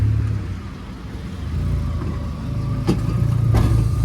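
A JDM car with a VTEC engine at a Japanese car meet in Reading rumbles close by with a deep, steady engine note that swells slightly, with a couple of sharp knocks near the end.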